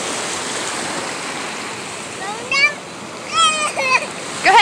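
Water splashes and churns as a young child climbs into the water outdoors, a steady rushing wash with sharper splashes toward the end, while children's high voices call out over it.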